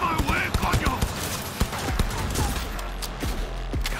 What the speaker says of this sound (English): God, I love submachine guns.